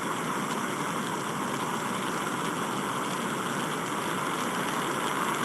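A rocket engine roars during a tinysat batch 2 launch to low Earth orbit, a steady loud broadband rumble holding constant for several seconds with no voices.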